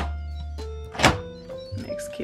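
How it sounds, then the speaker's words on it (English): A pot lid set on top of an Instant Pot holding potatoes and vegetable broth gives one short, loud thunk, surrounded by a quieter background hum. "And then you're just gonna pop your lid on top."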